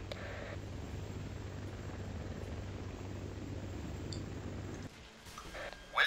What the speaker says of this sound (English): Swing wing aircraft.